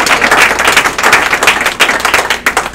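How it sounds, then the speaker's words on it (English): Loud, close applause from an audience fills the whole stretch, dense overlapping hand claps swelling and dipping without pause and with no one talking. "let's give these people a round of applause one more time."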